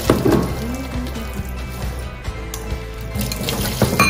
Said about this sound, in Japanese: でこのお湯をここにかけてください。